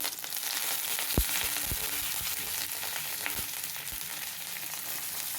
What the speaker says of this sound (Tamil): ஜீரகமும் சோம்பும் பொரிஞ்ச உடனே